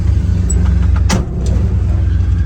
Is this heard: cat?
no